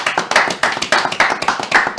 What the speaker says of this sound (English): Let's give a round of applause for Mr. Mike Munson, assistant coach for Crossland.